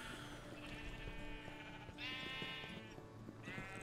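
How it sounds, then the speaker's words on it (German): Sheep in the Minecraft video game bleat several times in a row, short wavering cries that overlap against a steady synthetic background, with no talking. "Alter, wie viele Schafe sind das mittlerweile?"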